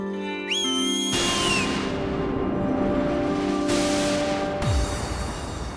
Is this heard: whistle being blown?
yes